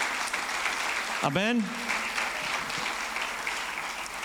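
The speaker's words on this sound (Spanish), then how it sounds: "le puedes dar un aplauso fuerte al Rey de Reyes y Señor de Señores" Church congregation applauding loudly and steadily throughout, with a voice calling out once briefly over the clapping.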